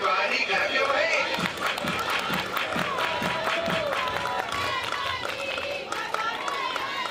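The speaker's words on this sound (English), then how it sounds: "Everybody clap your hands." Spectators at a Georgia vs Oklahoma college softball game clap in a rhythmic pattern, steady under stadium music and a broadcaster's commentary.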